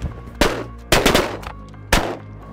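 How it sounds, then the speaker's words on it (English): Three loud, sharp shotgun blasts fire about half a second to a second apart during a late-season Wyoming duck hunt, each with a booming echo tail, outdoors and close by with no talk. "Nice shot, Bill."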